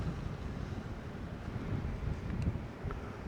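Wind gusting against a drone's microphone over a hillside restaurant area near the Agios Georgios inauguration in Peyia, a steady low rumbling buffet with a slight swell midway, no voices.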